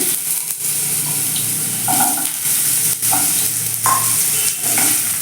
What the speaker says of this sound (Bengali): তেল গরম হয়ে গেছে আলুগুলো ছেড়ে দিচ্ছি